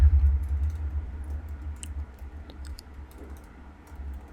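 Keys on a computer keyboard tapped sparsely and faintly, a few scattered clicks over a low steady hum with no talking.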